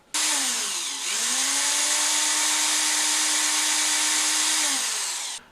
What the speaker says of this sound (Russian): Затем сверлом маленького диаметра, у меня здесь 2 мм, просверливаем отверстие с одной и с другой стороны будущего предохранителя